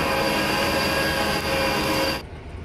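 An Almig air compressor in a nitrogen PSA system runs with a loud, steady mechanical drone and tonal hum, then drops off sharply just before the end.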